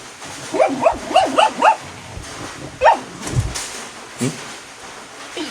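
A sleeping, dreaming dog gives a series of soft, muffled yips and whimpers, close by, in short clustered bursts followed by a couple of isolated squeaks.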